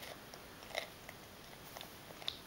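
A child bites and chews cucumber: faint, close crunchy bites and small wet clicks scattered over a steady quiet background, with no talking.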